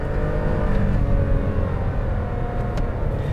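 A Daihatsu Rocky accelerates from a low gear in manual mode, its engine a steady, droning hum heard from inside the cabin, moderately loud and continuous without talk.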